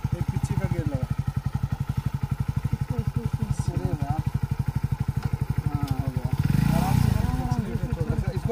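A motorcycle idles and putters unsteadily under a beginner rider, its engine pulsing steadily up close with a brief rev near the end while a voice talks over it.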